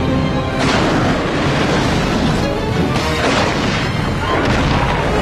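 Dragon plasma blast explosions in a How to Train Your Dragon animated series, loud booming, crashing bursts that overlap in quick succession, heavy and dense throughout, with no talk.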